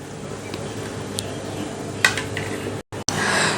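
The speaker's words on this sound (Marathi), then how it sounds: "हा समोसा आपण एका प्लेटमध्ये काढून घेऊया" A freshly fried green spinach samosa is set onto a plate, giving a single sharp clink of the plate amid faint kitchen background noise, followed by a brief dropout and a steady low hiss.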